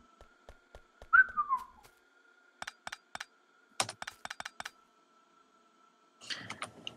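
Short whistled melodic phrase over a steady faint tone, amid bursts of rapid keyboard typing and clicking during a Factorio gaming session; no talk.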